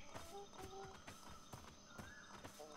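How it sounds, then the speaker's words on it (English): A horse gallops in the video game Atlas, its rhythmic hoofbeats thudding at a steady pace against a continuous outdoor ambience. "See a horse up ahead?"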